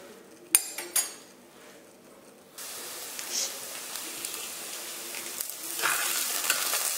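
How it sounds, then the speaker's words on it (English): Onions and cinnamon sticks braising in a pan, heard first as a few light clinks of utensils, then as a steady, moderate sizzle that grows slightly louder toward the end. "leave this to braise until the onions are slightly brown."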